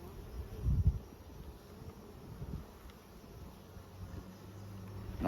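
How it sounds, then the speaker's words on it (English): Honey bees hum softly across a hive frame with drawn comb and brood, a faint, steady buzz with a few slightly louder swells near the start. "Beautiful bees, just sitting nicely on the frame."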